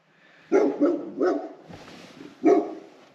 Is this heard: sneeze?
no